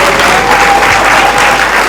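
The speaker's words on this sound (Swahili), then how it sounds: "Mpigieni makofi." A crowd at a Swahili Day celebration breaks into loud, sustained applause, a dense wash of clapping from many hands that fills the space evenly for its whole length.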